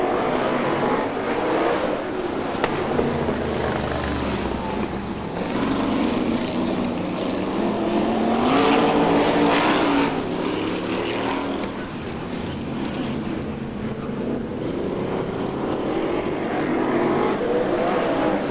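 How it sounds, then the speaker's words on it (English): Racing machines powered by 350 cubic inch Chevrolet V8 engines of about 600 brake horsepower roar continuously at a short oval raceway at Arena Essex. The sound is loud and sustained, rising and falling as several cars circle together. "they're running the 350 cubic inch Chevrolet engine in these"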